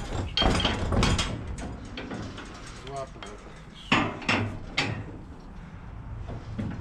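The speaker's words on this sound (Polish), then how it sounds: "Młotkiem trzepniesz i puści" A hammer strikes metal a few times while a Bizon Rekord Z058 combine header is taken apart: sharp, close clanks and knocks amid shuffling workshop noise, with a voice speaking briefly.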